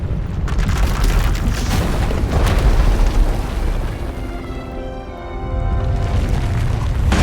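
A long, loud, rumbling explosion as the asylum is destroyed in the Star Wars: The Old Republic video game, with a sustained booming roar that dips briefly before swelling again, with no voices.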